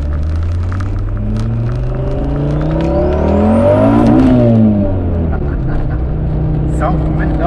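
An Audi S2 Quattro's engine rumbles and revs up, rising to a peak before settling, heard from close by with people talking over it.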